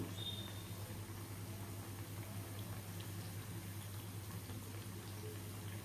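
Vadas fry in oil in a pan, giving a steady low bubbling sizzle that stays constant and fairly faint throughout, with no voices.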